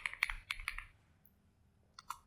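Typing on a computer keyboard, with a short burst of quiet clicking keystrokes, a pause, then a couple more taps, close and faint, with no talk.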